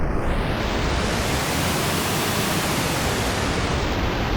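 Airwindows CrunchCoat plugin on full regeneration, giving a dense, steady retro digital hiss like loud broadband noise that holds constant for the whole stretch with no talk.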